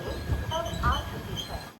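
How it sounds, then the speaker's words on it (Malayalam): Madgaon-Karwar Express pulling into Karwar railway station, a steady rumble of rail cars rolling in with brief metallic wheel squeals over continuous low track noise, fairly close. "ട്രെയിൻ ഇതാ കാർവാർ റെയിൽവേ സ്റ്റേഷനിലേക്ക് എത്തുകയാണ്"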